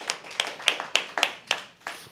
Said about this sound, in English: Can we please have a round of applause for him?